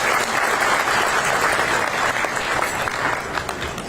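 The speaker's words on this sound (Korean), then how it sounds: "큰 말씀을 나눠주신 두 분께 큰 박수 부탁드립니다." A seated audience at a meeting with the president gives sustained, dense applause that fills the whole stretch at an even, loud level, with a faint crowd murmur beneath.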